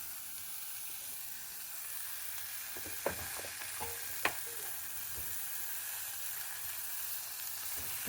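Chopped tomatoes fry in a hot pan for a bitter gourd masala, making a soft, steady sizzle with a few faint clicks and stirs.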